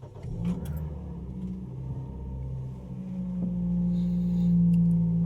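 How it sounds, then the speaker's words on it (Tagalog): An automatic car's engine cranks and catches, then settles into a low, steady rumble that swells a little louder toward the end, heard alone without speech. "Okay, so start lang natin yung kotse natin."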